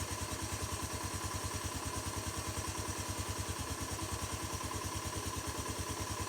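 A motorcycle engine with a newly replaced piston idles in an even, rapid thumping rhythm, steady and fairly close, with light mechanical clatter and no speech.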